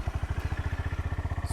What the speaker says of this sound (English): So I'll start her up now